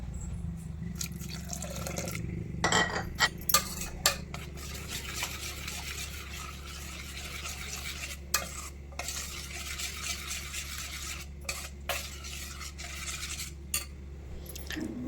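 Rava uttappa batter being stirred and mixed in a bowl, a steady scraping, sloshing churn with occasional sharper clinks of the utensil against the bowl, close and continuous throughout.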